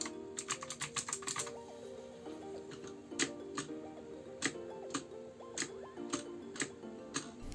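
Keys on a customized cookies-and-cream mechanical keyboard click in a quick burst of typing, then in sparser single presses, over faint tonal background music.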